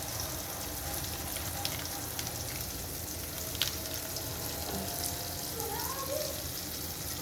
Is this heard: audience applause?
no